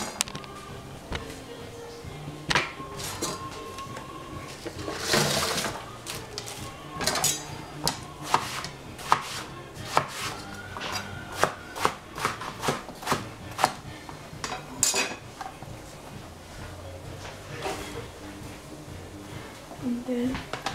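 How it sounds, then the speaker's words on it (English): A knife chops eggplant and cabbage on a board in a home kitchen, giving close, sharp, irregular chops with occasional louder clacks over a low room background. "Then cut some more."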